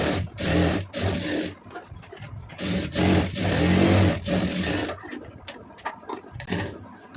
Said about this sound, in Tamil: இப்போ தையல் போட்டுடலாம்.